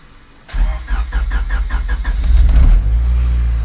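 A single-cam, non-VTEC Honda Civic Type R engine cranks briefly with rapid chugging pulses, then catches and settles into a loud, steady rumbling idle close by.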